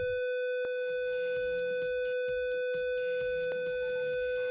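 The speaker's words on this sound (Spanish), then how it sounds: "Y aquí está la alarma sonora." A proximity sensor circuit's buzzer alarm sounds, triggered when a lamp is brought near, giving a steady electronic tone with strong harmonics that runs throughout, with faint clicks and background noise underneath.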